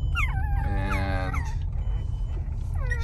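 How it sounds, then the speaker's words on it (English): Puppies in a litter whimper nearby in high, wavering whines and yips, several overlapping cries against a low background rumble. "Little puppies. Little puppies."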